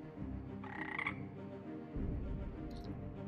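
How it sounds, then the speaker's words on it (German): Frogs croak in a layered, continuous chorus, with a louder nearby croak and a few higher calls standing out over the steady background. "Am nächsten Tag tauchten im ganzen Land überall Massen von Fröschen auf."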